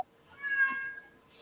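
A pet cat lets out one drawn-out crying meow, faint and alone, rising and then fading.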